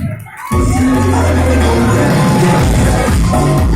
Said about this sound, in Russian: 4 участницам аплодисменты, бурные